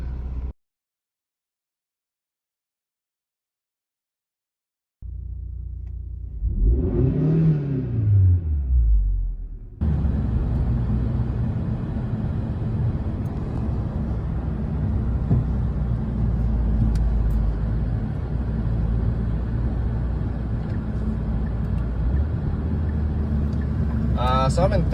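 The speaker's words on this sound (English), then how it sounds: "Just do a little quick revs" A 2021 Hyundai Sonata N Line with Borla exhaust idles, then revs up sharply and falls back, followed by a sustained loud engine drone in third gear with deep exhaust rumble.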